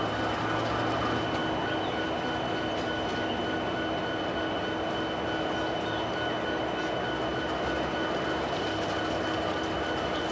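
A steady, loud rumble of an eastbound train rolling past close by on a mainline, continuous throughout with no talking.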